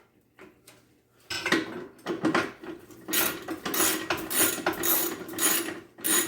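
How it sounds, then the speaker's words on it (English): Stainless steel straps are tightened with pliers and a screwdriver for leverage, giving repeated close metallic ratcheting and scraping clicks in uneven bursts that grow louder and busier over several seconds. "Just use pliers and a screwdriver. To tighten these up, you just put them on the edge there."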